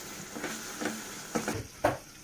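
Chili powder sizzling in hot oil for a masala egg curry, a soft steady fry with a few brief stirring bursts at intervals, close and fairly quiet with no talking.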